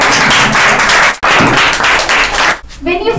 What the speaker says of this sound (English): Guys, clap for her.